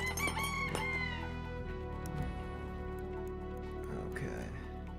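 Rooster crowing in a video game, a drawn-out cock-a-doodle-doo near the start over a steady background hum, followed by fainter game noises.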